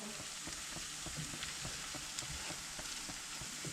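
Food sizzles steadily in a hot pan while being stirred, with scraping taps of the utensil repeating every half second or so, close and continuous without talking.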